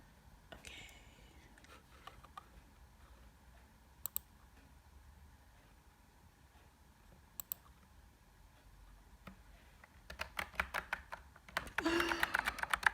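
Quiet, near-silent room tone gives way to a couple of isolated clicks, then a burst of rapid typing on a computer keyboard toward the end, the keystrokes growing louder and denser.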